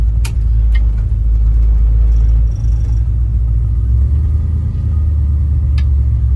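A restored 1955 Chevrolet Bel Air cruising through a left turn, its engine a steady low rumble with faint road and cabin noise, close and continuous, no talking.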